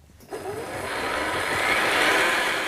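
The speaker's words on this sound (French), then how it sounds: "Et mixer pendant 1 minute jusqu'à ce que le lait soit bien vert." A blender whirs steadily as it mixes boiling hot milk with fresh basil leaves, starting abruptly after a brief quiet moment and then holding a loud, continuous, close-up buzz.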